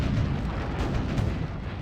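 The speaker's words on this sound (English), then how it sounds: "Your cannons just auto shoot." Ship cannons auto-firing during a naval battle in the Pirate101 video game, a dense, continuous rumble of booming low-end blasts that blur together without clear gaps, steady and loud throughout.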